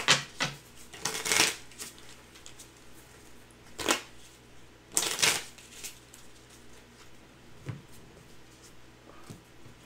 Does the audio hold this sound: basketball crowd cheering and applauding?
no